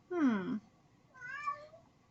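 Two distinct cat meows, the first louder and longer, the second softer and rising after a short pause, close by with no talking.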